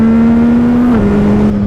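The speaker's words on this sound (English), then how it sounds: "Just listen to that exhaust note." A CFMoto 675 SR-R motorcycle pulls away from traffic lights on a road. Its loud, steady exhaust drone climbs in pitch, dips briefly at a gear change, then rises again, close up and with no talk.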